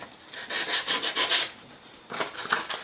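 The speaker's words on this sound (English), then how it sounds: "Now, I have some sandpaper." Sandpaper of about 150 grit rubbed across a metal blade in quick back-and-forth strokes, a rhythmic scratchy hiss in two bursts with a short pause between, close and clear with no talk.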